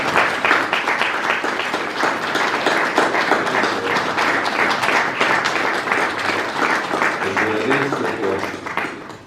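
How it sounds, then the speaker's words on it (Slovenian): A church congregation applauds the choir at a Slovenian Mass marking the restored church of St. Jerome in Petkovci, with sustained loud clapping that fills the space for about nine seconds and tapers at the end, and voices mixed in underneath. "Pevski zasedbi za ploskajmo."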